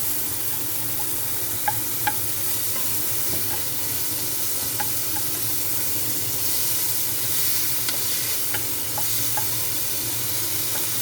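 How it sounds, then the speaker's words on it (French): Lardons sizzle in a very hot frying pan, a constant close crackling hiss with occasional sharper pops and stirring sounds, steady throughout with no talk. "on fait revenir des lardons dans le poêlon très très chaud"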